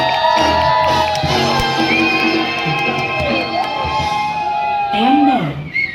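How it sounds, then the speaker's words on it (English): Live show audience at Ramoji Film City cheering, whooping and shouting in a loud sustained wave, voices rising and overlapping with scattered whistles, swelling again toward the end. "So please feel free to clap, whistle, and cheer."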